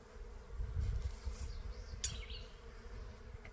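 A honey bee swarm, freshly caught and moved into a Layens insulated horizontal hive, hums as a faint, continuous buzz outdoors, with a brief bird chirp rising above it.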